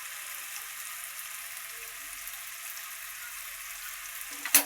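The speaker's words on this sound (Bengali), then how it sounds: "তেল চপ্পর চপ্পর করতেছে" A generous amount of oil sputtering in a pan while shrimp and bottle gourd fry, heard as a steady high, hissing sizzle at moderate distance, ending on a brief clatter.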